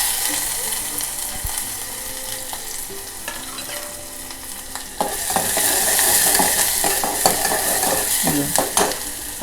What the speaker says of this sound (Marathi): कांदा घातला. आता गॅस कमी करते आणि कांदा आपण जरा परतून घ्यायचा.